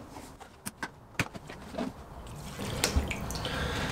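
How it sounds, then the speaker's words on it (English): A mountain bike chain lowered into a small container of gasoline, with a few drips and clinks of the metal links first, then a steadier liquid rush of sloshing and pouring close by. "so you could just submerge the chain in gas"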